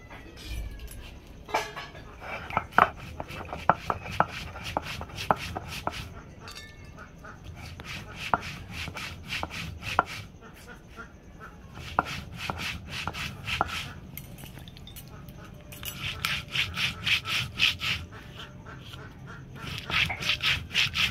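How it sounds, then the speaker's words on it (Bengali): Cumin and black pepper being ground for fish curry: close, repeated rubbing and knocking strokes of stone on stone, irregular at first, then quickening into a dense rhythmic grinding near the end. "মাছের জন্য মশলা বেটে নেব। এখানে জিরে আর গোলমরিচ আছে"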